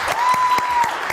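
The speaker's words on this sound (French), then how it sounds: "je vous demande d'applaudir très très fort Sandrine" Audience applause during a French entertainment show, a steady wash of clapping from a crowd that fills the whole short moment, fairly loud and close, with a faint sustained tone running underneath.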